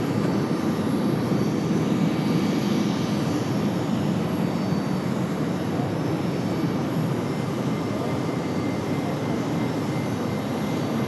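Delta jet airliner departing Raleigh Durham airport, a steady loud roar of jet engines with a broad rumbling hiss sustained throughout, heard without any talk.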